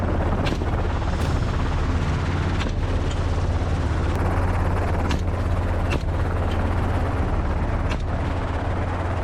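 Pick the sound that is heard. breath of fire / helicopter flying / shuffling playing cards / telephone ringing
helicopter flying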